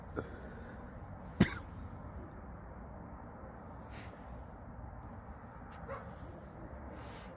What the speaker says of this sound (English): Now the landlord's dogs are barking, so messes with the audio